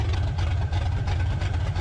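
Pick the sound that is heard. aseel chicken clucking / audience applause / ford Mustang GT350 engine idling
ford Mustang GT350 engine idling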